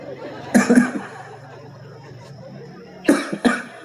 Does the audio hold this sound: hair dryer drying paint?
no